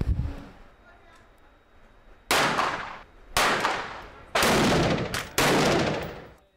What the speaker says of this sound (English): The gunshots come from a group of highly focused UNC students.